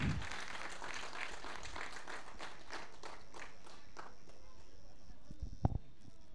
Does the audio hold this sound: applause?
yes